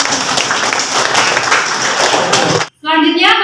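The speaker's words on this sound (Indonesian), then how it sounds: "Kita beri tepuk tangan." Classroom applause for the first presenting group, a dense, loud burst of many hands clapping together that cuts off abruptly, followed by a brief voice.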